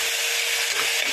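Tomatoes fry in a pan for chicken biryani with a continuous close, bright sizzle, while faint soft stirring sounds run underneath.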